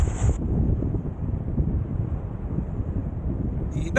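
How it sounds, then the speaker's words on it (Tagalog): Strong wind at the top of an island buffets the microphone in a constant low roar, with brief high-pitched tones at the start and end. "Ang lakas ng hangin."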